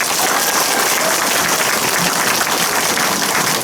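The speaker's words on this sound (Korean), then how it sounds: "지금부터 여러분들의 힘찬 박수와 함께 주민설명회를 시작하도록 하겠습니다." A crowd of residents gives strong, continuous applause to open a housing residents' briefing, a dense, even roar of clapping with no voices heard over it.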